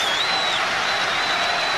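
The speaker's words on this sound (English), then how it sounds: "Listen to the crowd." A rugby stadium crowd roars with a loud, continuous wash of cheering, with a whistle-like tone riding on top.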